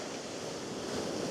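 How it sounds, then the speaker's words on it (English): Ocean surf pounding against a coastal rock, heard as a continuous, fairly faint wash of churning water with some wind across the microphone, steady throughout with no voices. "today the waves are crashing in really hard"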